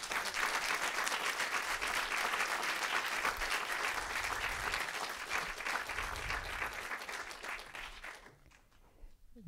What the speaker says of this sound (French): On peut vraiment l'applaudir encore une fois.